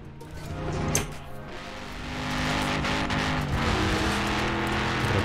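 Car engine in Forza Horizon 4, driving along a forest-edge route with a stiff suspension setup, a steady droning motor that swells slightly as it accelerates, close and moderate under faint background noise.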